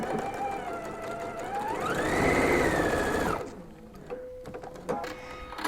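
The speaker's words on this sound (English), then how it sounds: "you're going to sew this in a diagonal" A domestic sewing machine stitches a diagonal seam across quilt binding in one steady, loud run that rises in pitch and then stops abruptly, followed by quiet handling noises.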